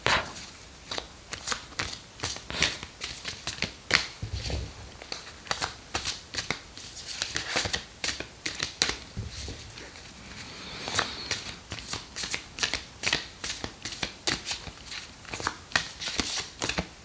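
Large tarot cards being shuffled up close, a steady run of quick papery riffles and flicks with short pauses between bursts and no talking.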